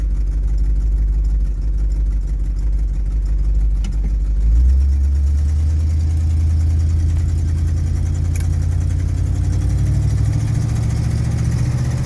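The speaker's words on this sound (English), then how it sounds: "We got first, second, third, and it shifted great." A 1973 Chevy Cheyenne Super C10 pickup with a 454 engine, after transmission repairs, drives along. Its engine drone drops and climbs again as it shifts up through the gears, steady and fairly loud throughout.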